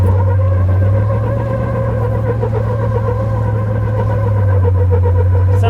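A Jeep engine holds a low, steady drone while rock crawling, close and loud, with a strong hum that rises slightly as the throttle is eased on and off.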